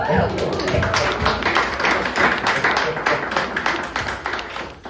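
An audience at an awards celebration breaks into a round of clapping, a dense, fairly loud patter of many hands that holds steady and then begins to thin out toward the end.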